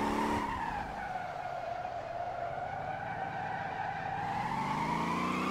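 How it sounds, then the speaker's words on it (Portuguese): In the Motor Town driving game, a car drifts with tires skidding in a sustained, loud squeal, its pitch sagging and then rising again over a steady engine drone, with no talking. "Manter a terceira na derrapagem, isso aí."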